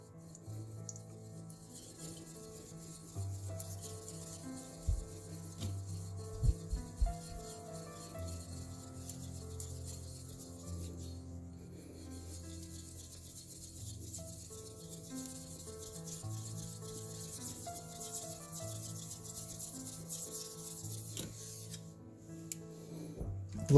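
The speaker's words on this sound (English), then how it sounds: "Now I always dress up these stones before I hone" Sharpening and honing stone being lapped and dressed: a steady, close rubbing and rasping scrape continues throughout over a low hum, with a few brief knocks.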